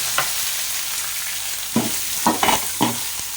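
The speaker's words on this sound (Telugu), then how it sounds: "వేసి బాగా వేయించుకోవాలి ఎర్రగడ్డలు బాగా వేగినాయి" Onions fry in a pan with curry leaves and green chilies under a steady, loud sizzle, with a few clinks and scrapes of stirring breaking through the hiss.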